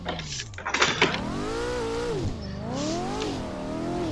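A Corvette C5 Z06 V8 engine in a video game, revving hard with a clutch kick: harsh, rising and falling engine harmonics that climb, dip and surge again, loud and continuous with clattering bursts at the start.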